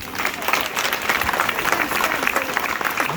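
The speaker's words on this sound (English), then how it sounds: "I request to give him a thunderous hand clap." Thunderous clapping from a large school audience at a Monday assembly, a dense, steady roar of many hands close by that carries on without a break.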